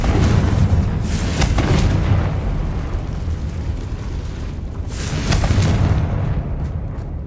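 Confringo blasting spells explode in Hogwarts Legacy as two heavy, rumbling booms, one at the start and another a few seconds later, with a continuous loud roar between them.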